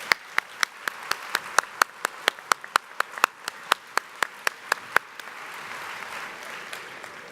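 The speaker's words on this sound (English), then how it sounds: "Let's give them a round of applause." Applause at a spring commencement ceremony, heard as a slow, steady run of distinct, fairly close hand claps from a few people, then a softer spread of clapping from the wider assembly with a few claps still standing out.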